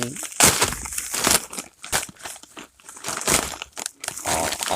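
Snack packaging from a gift box is unwrapped up close, giving repeated loud crinkling and crumpling bursts of plastic, while someone talks over it.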